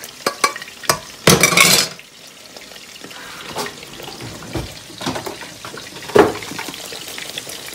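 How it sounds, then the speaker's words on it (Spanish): Salsa with garlic and chile pepper frying in a pan gives a loud sizzling burst, followed by quieter crackling and intermittent stirring clatter. "aquí va el ajito ya para freír esta salsa para ponerle las tortitas"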